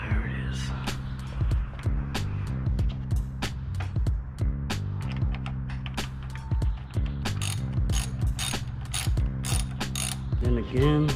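A hand ratchet tightens the lock nut on a motorcycle clutch or brake lever, giving a long run of rapid, crisp metallic clicks in repeated bursts, close up and fairly loud, no talking.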